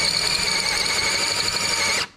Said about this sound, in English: drill a hole in the fuel block off plate that goes there